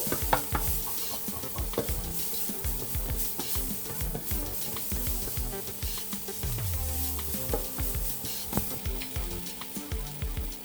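Chili curry paste stir-fried in a pan, with constant close sizzling and repeated scraping and stirring strokes throughout, and no voices.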